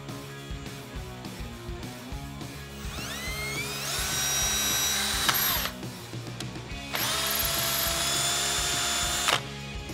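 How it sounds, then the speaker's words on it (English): Power drill boring an 11/64 inch pilot hole during a Jeep Wrangler JK suspension install, a sustained high whine that climbs in pitch as the bit bites, pauses briefly, then runs again steadily, loud and close with no talk. "I'm gonna drill a pilot hole with this, then we can step it up to a 1/4 inch, and then finally a 3/8 inch."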